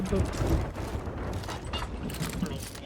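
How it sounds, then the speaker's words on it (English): Cannon fire from a ship in the Sea of Thieves pirate game, a few booming shots and clattering impacts mixed with mechanical creaks and overlapping voices. "one of the crew members shot a couple of cannons at my ship"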